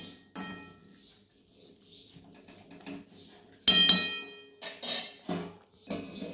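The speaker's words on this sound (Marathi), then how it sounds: "शेंगा आपल्या जरा खालीवर करून घेऊया हलवून" A spoon clinks and scrapes against a metal pot while boiled beans are stirred, giving intermittent close metallic taps and rattles, a few louder clanks toward the end, and some quiet voice in between.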